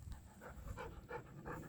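A dog pants softly nearby in quick, rhythmic breaths, faint and close over a low background hum.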